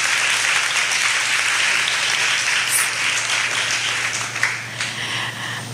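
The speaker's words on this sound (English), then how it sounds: "So let's all welcome them with a huge round of applause." An audience at an education care project inauguration applauds steadily, a dense, loud wash of clapping that holds without a break throughout.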